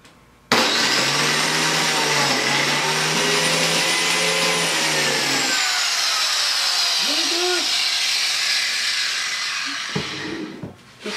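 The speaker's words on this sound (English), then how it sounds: "Alright, so here's biscuit slot number one. And here we go." A biscuit joiner cutting a slot in a mahogany buffet panel: a loud motor whine spins up suddenly, carries a lower cutting tone for a few seconds, then runs freely and winds down.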